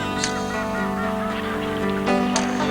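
Mallard ducks flying in on the wind, a couple of sharp honking calls standing out over a steady droning background, one near the start and another near the end.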